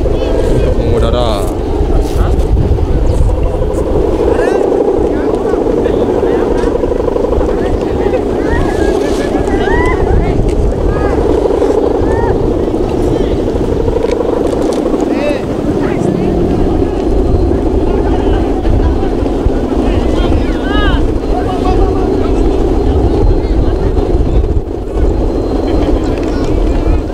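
A helicopter operates at a Padang Galak helipad, its rotor and engine making a loud, continuous rumble mixed with strong wind noise, while people talk over it.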